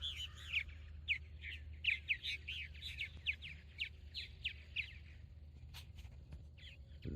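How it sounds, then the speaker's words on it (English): Small birds chirp and tweet in quick bursts across a quiet morning farm, clear high calls repeating in clusters over a faint low background hum. "Very peaceful out here in the mornings like this, other than the birds."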